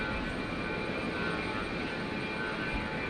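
Jet airliner engines roar at Brisbane airport as a broad, steady rumble with no breaks across the short stretch, sounding at a moderate distance.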